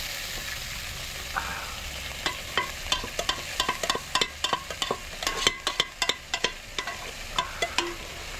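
Beef broth goes into a pan of sizzling beef bones for Filipino bistek. A soft frying hiss runs under a quick series of clicking scrapes as a utensil stirs and taps the pan.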